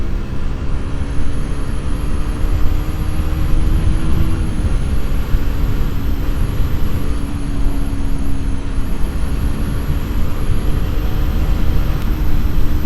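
A KTM RC 125 motorcycle rolls down a steep descent, its engine holding a steady low drone with a faint high whine above, loud and continuous with heavy wind rush throughout.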